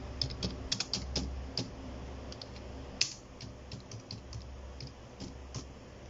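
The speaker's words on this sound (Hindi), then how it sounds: "सो हम एप्लीकेंट का एड्रेस टाइप कर देते हैं।" Someone types an address into an online police verification form on a computer keyboard, producing quiet, irregular key clicks in uneven bursts, with no voices.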